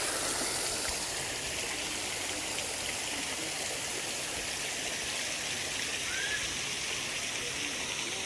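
A small waterfall on Madeira Island rushes in a steady, broadband hiss of falling water, close and continuous with no break, alone and without voices.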